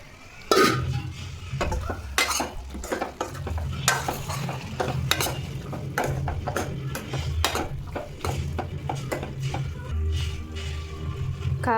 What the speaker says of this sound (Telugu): తిప్పుకోవాలి మొత్తం.